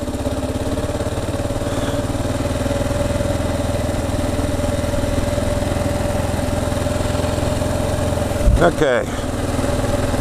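A Kawasaki KLR 650 motorcycle engine runs at a steady idle-like thump close by, with a short burst of wind or handling noise near the end and a brief spoken word.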